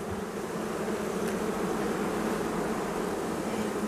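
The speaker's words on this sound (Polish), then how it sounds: "tu pszczółki z tej strony jest wylotek" Honeybees swarm at the hive entrance of a colony in winter, giving a steady, close, dense buzzing hum with no pauses or voices.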